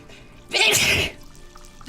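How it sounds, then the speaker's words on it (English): A single sudden human sneeze, close and loud, bursting out abruptly and lasting about half a second against an otherwise quiet background. "I might sneeze."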